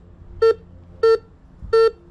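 Three evenly spaced electronic beeps from a Garrett metal detector, each short and clear with a steady pitch, over faint background noise.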